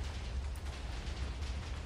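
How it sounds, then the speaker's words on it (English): Rumbling explosions in the video game Minecraft roll on without a break, a dense low boom that swells and fades in waves with no clear gaps between blasts. "are the explosions done? Nope, explosion's still going."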